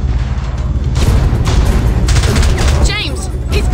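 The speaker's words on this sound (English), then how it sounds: "James, he's firing missiles." Missiles launching in James Bond 007: Blood Stone, a dense run of loud booming blasts and crackling bursts filling the whole stretch, with a whistling streak near the end and a voice speaking beneath.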